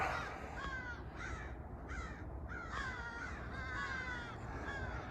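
Several crows caw repeatedly outdoors while hiking in hills, harsh calls in short bursts over steady background noise, some near and some farther off.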